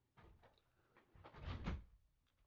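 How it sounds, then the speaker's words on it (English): A room door swung shut nearby, a soft muffled thud with a brief rattle, fairly quiet. "I'm gonna close my door because I think company arrived."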